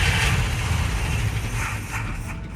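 An International Scout engine cranking over after a carburetor install: a dense, low, churning mechanical drone that holds steady for a few seconds, close and fairly loud, with no voices.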